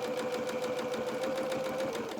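A sewing machine runs steadily, stitching a seam on flat fabric for a doll's bloomers, with a fast, even needle rhythm and a constant motor hum heard close up, no talking.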